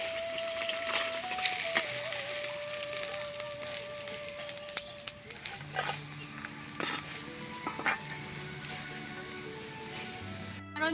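Rohu fish frying in hot mustard oil, a steady dense sizzle running throughout with scattered crackles and a few clinks of a utensil near the pan, a faint tone in the background early on.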